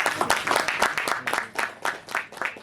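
Audience applause for a couple being honoured at a Ram Lalla Praan Pratishtha celebration event, steady broadband clapping with uneven bursts, moderately loud and sustained throughout.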